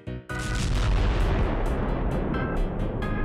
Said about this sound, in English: And he got a fresh explosion instead.